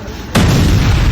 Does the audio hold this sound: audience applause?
no